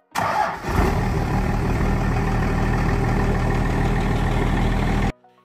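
A Cummins 6BT 5.9-liter 12-valve inline-six diesel cranks, catches and runs at a steady loud clatter close by for about five seconds before cutting off.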